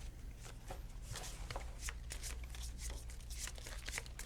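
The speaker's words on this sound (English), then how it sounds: "everyone, please Shuffle shuffle that." Pandemic Legacy board game cards being shuffled, a quiet run of repeated riffling and sliding card sounds at close range, with no talk over them.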